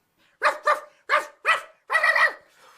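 A dog barks in a children's story, five sharp barks in quick groups followed by a longer yelping bark, close and loud with no talk over it.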